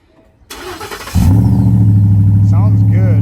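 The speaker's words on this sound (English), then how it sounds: "But here's a little exhaust note." First-generation Ford Raptor truck with a low-hanging welded exhaust starts up: a short cranking burst, then the engine catches into a deep, loud, steady idle rumble, with a voice audible briefly near the end.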